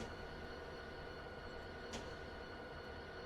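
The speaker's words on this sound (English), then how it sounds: "I think I have to wait for this train to leave." A train in Train Simulator 2020, a New Jersey Transit rail yard, rumbles steadily as it passes close by, with a brief brake-like hiss near the middle and no talk.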